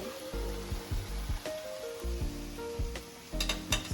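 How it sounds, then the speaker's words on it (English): Ackee and saltfish tossed in a hot pan, a steady sizzle broken by repeated scraping and clattering strokes of the utensil against the pan, close and fairly loud. "So I'm just going to toss it around with the saltfish and everything"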